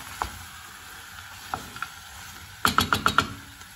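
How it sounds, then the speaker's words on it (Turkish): Carrots, potatoes and borlotti beans sauté in a tomato paste sauce, a soft low sizzle under a few isolated clinks, then a quick burst of five sharp metallic taps of a utensil on the pot near the end. "Salçalı sosta 1-2 dakika havuç ve patatesi kavuruyorum."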